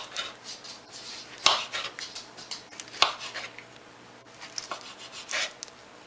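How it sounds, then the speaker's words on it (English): A knife slices through a ripe plantain at an angle on a board, giving soft repeated cuts with a few sharper taps against the surface, close and quiet, no talking. "I'm going to cut this at an angle all the way"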